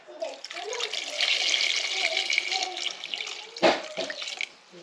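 Water pouring from a tap, a steady splashing stream with a sharp knock near the end, while people talk over it.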